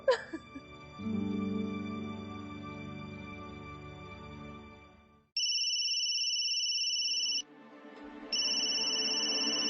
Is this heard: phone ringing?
yes